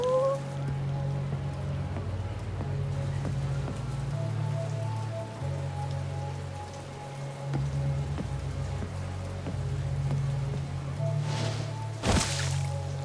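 Rain falls steadily in the Yakuza video game, a constant close patter on surfaces beneath a low musical drone, with a brief whooshing swish near the end.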